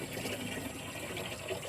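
Water runs steadily from a rural water source, a soft and continuous rushing stream heard up close with no talking.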